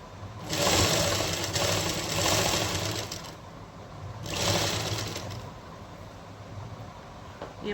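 A sewing machine stitches piping along a fabric edge in two bursts of close, rapid mechanical whirring separated by short pauses, with quieter motor hum in between.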